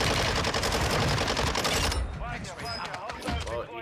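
Rapid heavy weapon fire in the video game Call of Duty Warzone, a loud dense volley lasting about two seconds, then fading into softer clatter and chirpy game sounds.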